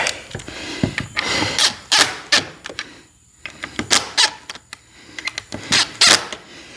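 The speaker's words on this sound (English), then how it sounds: "Let me tighten this hinge back up here." A power driver tightens a hinge on a horse barn door, heard as a series of short, sharp mechanical bursts separated by brief pauses, fairly close and with no talking.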